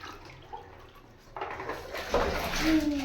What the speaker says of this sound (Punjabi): ਆਪਾਂ ਆਏ ਉੱਪਰ ਬੂਟਿਆਂ ਨੂੰ ਪਾਣੀ ਪਾਣ